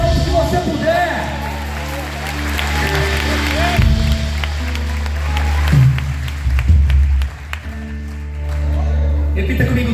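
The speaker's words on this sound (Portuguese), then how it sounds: "aplauda Ele o mais alto que você puder" A church congregation claps and cheers during a sermon over a sustained organ or keyboard chord, with loud talk and crowd noise rising and falling throughout.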